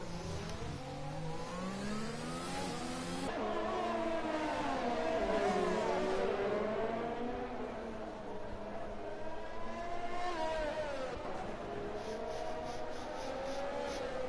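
A Mercedes Formula 1 engine screams through a hot lap around Monaco in a racing video game, its pitch rising and falling continuously through gear changes and corners, steady and fairly close with no voices over it.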